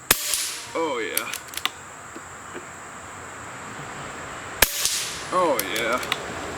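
Two shots from an Umarex Origin .25 caliber PCP air rifle, each a sharp crack followed by a faint pellet impact, several seconds apart, with insect chirps and brief background murmurs in between.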